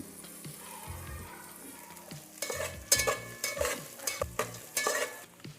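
Green chillies and pieces frying in a pan, a quiet steady sizzle building into repeated stirring and scraping strokes near the end, heard close with no talk.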